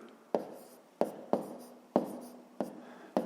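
A pen writes numbers on paper for a fifth-grade subtraction exercise, making six crisp, close strokes at an uneven pace with nothing else around them.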